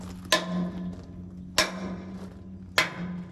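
A hammer striking metal on the cooling system of an ALCO RSD-12 diesel locomotive: three sharp, evenly spaced clanks with ringing decay over a steady low engine hum.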